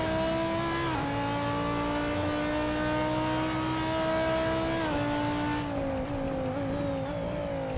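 A GT3 race car engine in a sim racing game, laps at Okayama, drones steadily loud and close, its pitch dipping and climbing with gear changes and revs throughout.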